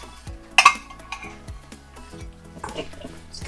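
A five-year-old stirs flapjack batter in a bowl, with a utensil clinking and scraping against the sides in uneven strokes, one sharp clink near the start.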